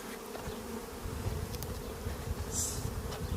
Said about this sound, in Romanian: m-am gândit să deschid un stup care e mai bunicel